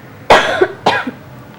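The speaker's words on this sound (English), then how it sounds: "as we ignore a cough" Two quick coughs from a nearby person, sharp and close, about half a second apart, with nothing else around them.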